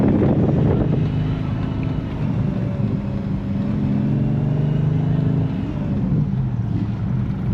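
An Audi S4 with a 4.2-litre V8 drives along the road toward a drag-racing event, a steady engine drone and road rumble mixed with wind noise, continuous and fairly loud, with no talking.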